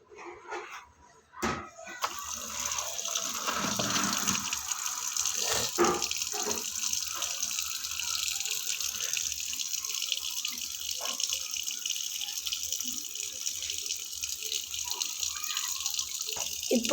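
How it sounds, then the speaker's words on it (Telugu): A tap runs into a container set up with neatly arranged stones. After a few knocks and handling noises at the start, a steady, close water rush fills the rest of the clip. "ఇప్పుడైతే మనం వాటర్ ఫిల్ చేసుకుందాం."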